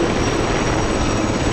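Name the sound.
military helicopter descending at an air show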